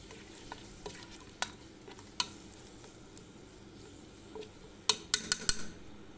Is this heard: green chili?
yes